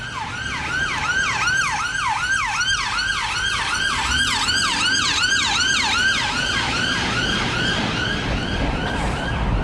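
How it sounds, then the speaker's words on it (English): A loud ambulance siren wails in rapid repeating sweeps close by in Egham, over road noise, gradually shifting and fading slightly as it passes. "Oh, it's an ambulance."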